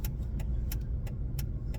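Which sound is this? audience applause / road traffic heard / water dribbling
road traffic heard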